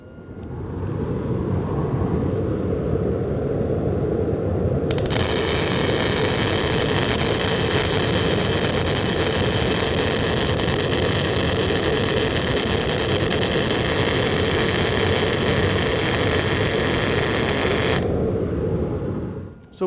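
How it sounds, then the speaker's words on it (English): GMAW welding with too little shielding gas: a loud, steady crackling arc hiss starts abruptly and runs continuously for about thirteen seconds over a constant background drone before cutting off. "So we just finished our weld with not enough shielding gas."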